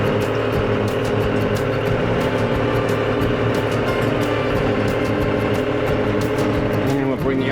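A tractor pulling a John Deere MX7 field mower runs loud and steady up close, its even engine drone continuing throughout with mechanical rattling on top and someone talking over it.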